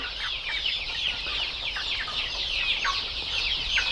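Many chickens cluck and chatter continuously, a busy overlapping flock sound close by with steady background noise.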